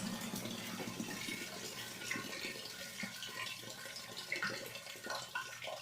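Water drains out of an RO water purifier tank in a faint, continuous splashing trickle with small irregular gurgles and drips, no one talking.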